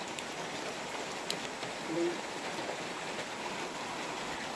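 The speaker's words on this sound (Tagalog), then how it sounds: "Kasi ano, ulan. Ulan kasi eh." Rain falling steadily as a soft, continuous hiss with faint patter, heard at low level and without talk.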